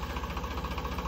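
A tractor engine idles close by with a rhythmic low chugging pulse, steady and fairly loud, heard on its own over its short span while a stuck loaded trolley waits to be pulled out.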